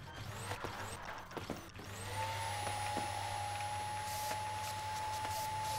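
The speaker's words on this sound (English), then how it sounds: "Let's vacuum up all this spare stuff." A vacuum device sucking up spare parts in the video game CTRL ALT EGO, opening with clicks and clunks, then a steady whirring drone with a rising whine that holds at an even level.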